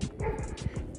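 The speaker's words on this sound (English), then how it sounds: "They got dogs out." Dogs at a rental house over Thanksgiving give a few short barks and yips, fairly close, in a brief burst with no talk over them.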